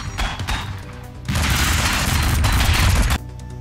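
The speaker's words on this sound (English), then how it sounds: "That's a lot of firepower." Heavy gunfire in a video game battle, a dense burst of overlapping shots and thuds that swells suddenly and holds loud for about two seconds before cutting off, with no talk.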